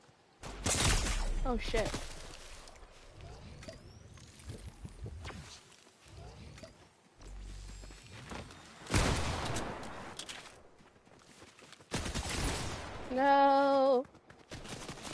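Gunfire aimed at the player in an online shooter video game, bursts of shots scattered through the clip amid game noise, with the player talking and swearing over it.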